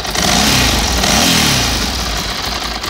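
A 2003 Ducati Multistrada 1000DS with its V-twin engine runs loudly up close, a steady throbbing rumble that swells slightly and settles back, with no talking.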